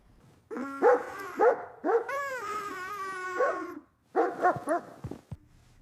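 A small dog barks in short, sharp bursts with whimpering, yipping cries between them, close and loud, alone in a quiet room.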